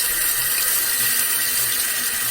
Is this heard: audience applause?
no